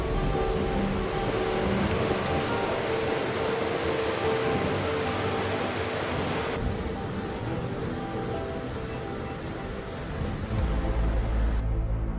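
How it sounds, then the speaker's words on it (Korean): Sea waves break against the rocky shore near a seaside temple in Korea as a steady, broad rush of surf, loud and close with wind noise and no talking. "파도 치는 모습"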